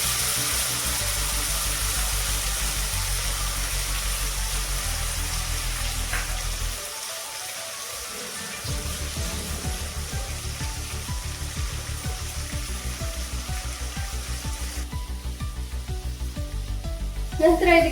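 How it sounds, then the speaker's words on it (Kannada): Tamarind juice hitting a hot pan of tempering for puliyogare, a steady loud sizzle with bubbling that briefly drops away and then resumes, continuing close and even throughout with no talk. "ಸೊ ಈಗ ಹುಣಸೆಹಣ್ಣಿನ ರಸನ ಹಾಕಿದ್ದೀನಿ."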